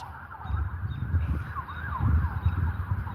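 An emergency siren wails continuously, rising and falling, somewhat distant over a low rumble of traffic.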